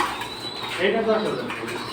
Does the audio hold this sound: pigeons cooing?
yes